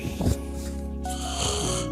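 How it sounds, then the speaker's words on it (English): A person in deep sleep in a hotel room snores in a steady, rasping rhythm, loud and close, with a snorting intake near the start. "I was still snoring now, as you just saw."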